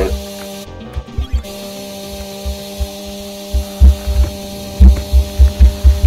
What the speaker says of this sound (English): really loud, obnoxious chainsaw noise is gonna drive me up the wall